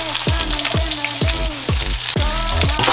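Korean shrimp pancakes, shrimp on zucchini slices coated in egg wash, frying in a pan with a loud continuous close sizzle, overlaid by a regular low thumping pulse and bubbling crackle.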